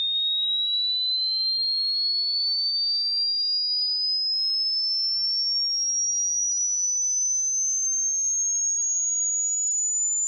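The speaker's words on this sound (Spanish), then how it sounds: "Empieza con frecuencias audibles bajas, graves, y de ahí las frecuencias empiezan a ir aumentando hasta hacerse bien agudas." A pure electronic test tone sweeps steadily upward in pitch for about ten seconds, a single clean continuous whistle gliding higher, with nothing else heard.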